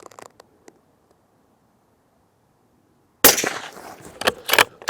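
A Benelli Lupo Open Country bolt-action rifle fires a single loud, sharp shot at a 100-yard range. The crack comes abruptly after a long quiet stretch, then rolls into a rough, echoing decay with a few trailing bursts.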